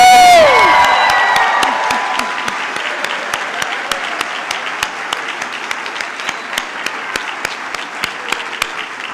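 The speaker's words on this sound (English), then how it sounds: "let's do one more giant round of applause with some screaming and some hooting" A commencement ceremony crowd breaks into a big, loud round of applause with cheering and whoops, dense clapping sustained throughout with a steady pulse of rhythmic claps underneath.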